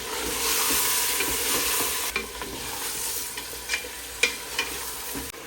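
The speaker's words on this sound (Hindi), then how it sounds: "मैं इसके अंदर अदरक लहसुन का पेस्ट डालूंगा और इसे और भूनूंगा।" Meat frying in a pan with ginger garlic paste and salt for haleem, a continuous close sizzle broken by a few sharp clicks of stirring.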